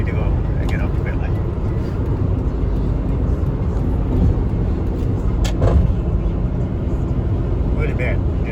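A 1999 Lexus RX 300 with a cylinder 6 misfire revs at high RPM on a highway, a loud steady engine and road drone filling the interior, with a person talking over it.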